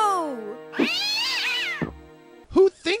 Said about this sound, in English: Or even chucking cats through windows?